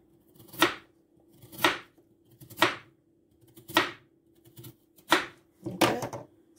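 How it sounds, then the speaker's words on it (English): Knife slicing potatoes for homemade crisps, six crisp, evenly spaced cuts roughly a second apart, each a sharp close thud on a cutting board with a faint steady hum underneath. "So I'm gonna slice them"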